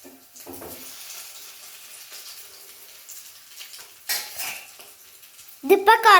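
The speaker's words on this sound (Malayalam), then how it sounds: "ഇതിപ്പോൾ കുറച്ച് ഫ്രൈ ആയി വരുന്നുണ്ട്. ഇത് നമുക്ക് ഇത്തിരി ഇളക്കി കൊടുക്കാം." Potato balls frying in a pan as they are stirred, with clinking utensil scrapes and metal-on-pan knocks that grow louder toward the end over a soft steady sizzle.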